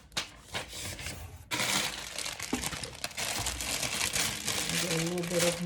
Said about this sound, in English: I'm going to cover the top up with the yellow tissue paper.